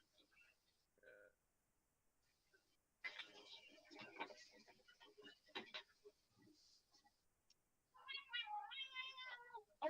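A pet cat meows faintly in a quiet room, with a short mew early on and a longer wavering meow near the end, while people talk softly in between.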